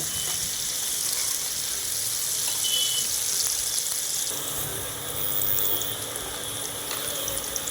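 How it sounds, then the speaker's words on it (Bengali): Chopped onion fries in a pan while a spatula stirs it, giving a steady bright sizzle with scattered scraping clicks. No voices. "তো পেঁয়াজটা দেওয়ার পর এটাকে একটু ভালো করে খুন্তি দিয়ে নেড়ে নেব"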